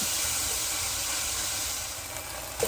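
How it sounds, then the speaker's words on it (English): Beef sizzles loudly as it sears in a hot pan, a steady close hiss and crackle that carries on without a break, with no voices. "So the beef is frying up really nice."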